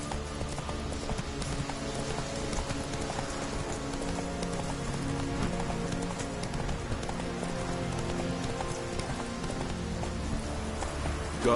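A horse galloping in The Witcher 3 video game, with steady hoof clip-clop running continuously under game music and ambient layers, loud and close throughout.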